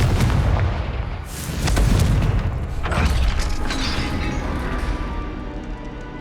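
Heavy booming blasts and rumbling crashes of a Confringo fire spell detonating in the game Hogwarts Legacy, loud and dense with rolling low-end impacts and crackling debris over several seconds.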